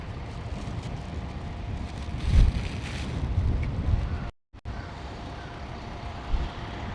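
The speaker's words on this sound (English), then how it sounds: "we got a burst of wind right now because of the typhoon" A gust of typhoon wind buffets the microphone on a city street in Ginza, a loud rumbling roar that swells midway, briefly drops out, then settles into steady blustery noise.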